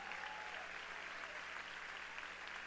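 Large crowd at a church conference applauding donors, a distant, faint but continuous roar of clapping in a big hall, with a sustained tone underneath.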